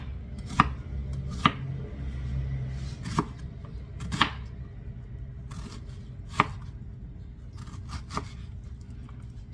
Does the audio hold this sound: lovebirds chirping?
no